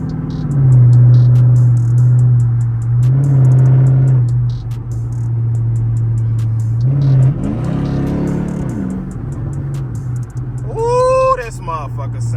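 A Chrysler 300C AWD with a Hemi engine revs while being driven at night, its deep burbling note rising and falling through several throttle blips, heard from inside the car with someone talking over it.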